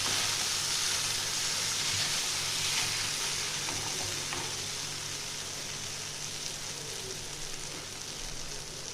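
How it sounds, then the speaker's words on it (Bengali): Bitter gourd and brinjal sizzle steadily in a frying pan for a Bengali-style jhal while a spoon stirs through them, with continuous close frying hiss and scraping and no voices. "এটা একটু আমি নাড়িয়ে চাড়িয়ে নিচ্ছি।"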